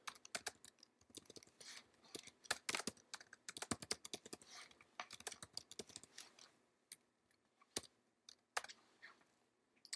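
Fast, irregular clatter of keys being typed on a computer keyboard while entering values into an SAP Web Dynpro ABAP dropdown, close and clear, in uneven bursts with brief pauses and no talking.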